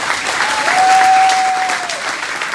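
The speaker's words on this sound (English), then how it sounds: "I can't tell if you guys are clapping for me or because she said I'm the last speaker" Steady, loud applause from a banquet audience at a county GOP dinner fills the whole stretch, dense and continuous, with a thin whistle-like tone rising over the crowd midway.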